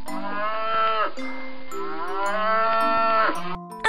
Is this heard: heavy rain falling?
no